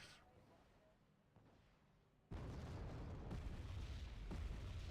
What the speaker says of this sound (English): doing the rocket artillery barrage and not really doing all that much